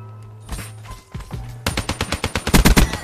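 Video game gunfire crackles in short bursts at first, then breaks into a fast, loud string of rapid shots that builds toward the end.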